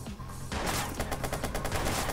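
Rapid burst of gunfire in the video game Watch Dogs after a brief quiet start, a string of sharp cracks fired in quick succession.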